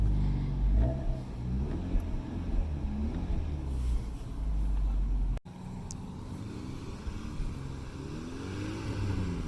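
A Hyundai Veloster with its exhaust cutout closed idles with a low, muffled engine rumble, steady and close, with a brief dropout partway through before the quiet hum resumes.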